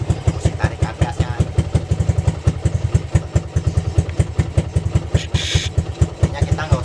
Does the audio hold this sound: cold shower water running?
no